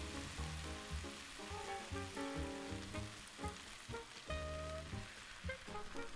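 Stock pours into a hot pan of beef stroganoff, giving a steady crackling sizzle with bubbling pops and faint clinks, close and quiet, with no talking.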